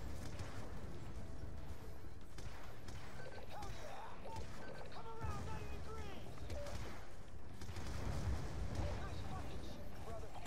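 A battle in Call of Duty Black Ops 2 brings bursts of gunfire and heavy booming impacts under a constant mechanical din, with voices speaking over the fighting.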